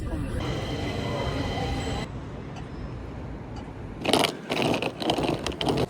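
Steady low rumble of a Stockholm metro train in motion, with a sharp screech and clatter of wheels rising near the end.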